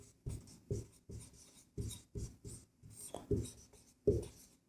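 Someone writes on a board or paper during a class 10 maths lesson on surface area and volume. About a dozen quick, close scratching strokes come in an uneven rhythm.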